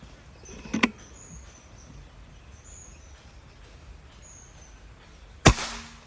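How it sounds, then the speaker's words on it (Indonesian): A PCP air rifle fires at long range, each shot a sharp crack: one near the start with a faint report after it, then a loud close shot near the end over quiet outdoor background. "Lanjut tembakan keempat."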